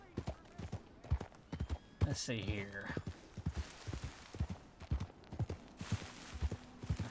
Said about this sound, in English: are you going to get on the horse or not, Arthur?